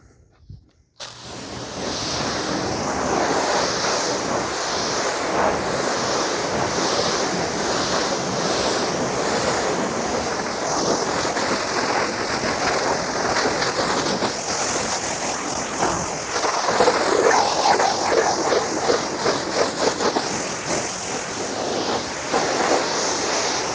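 A pressure-washer spray rinses pre-wash off a car's paint protection film in a long, steady, loud hiss of water lasting the whole stretch, with no talking.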